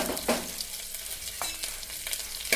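Onion, curry leaves, ginger, green chili and cashews fry in hot oil for kodo millet khichdi, a continuous close sizzle with a few stirring scrapes and clatters of the spoon against the pan.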